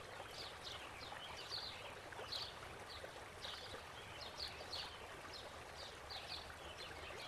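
Water trickles and splashes steadily as a paintbrush is rinsed in a water container during acrylic painting, with a faint continuous swishing and small clinks.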